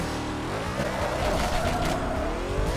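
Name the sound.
car driving and skidding in video game Killer Bean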